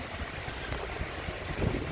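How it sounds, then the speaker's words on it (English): Wind from Hurricane Delta rushes steadily past an outdoor microphone, a faint, dense, broadband roar with small gusty swells and no voices. "That's windy still."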